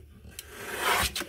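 Handmade greeting card stock being cut, a dry papery rasp that swells to a louder stretch near the end, with a few short scrapes before and after.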